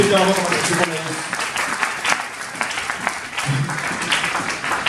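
Church congregation applauding for Jesus during a service on discipline in the local church, with a burst of loud clapping from a crowd filling the room, mixed with voices and cheering.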